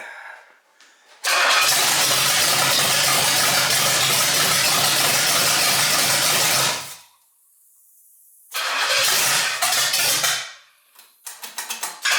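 A 1968 Pontiac GTO engine after a drivetrain rebuild cranks and fires into a loud, steady run for several seconds, cuts off to near silence, then restarts and revs briefly before sputtering off in short bursts, close to the microphone.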